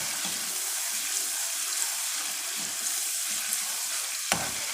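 Sarson ka saag with green chillies and whole black peppercorns fries in a pan, giving a steady, close sizzle with soft stirring scrapes and a sharp clink near the end, and no talking.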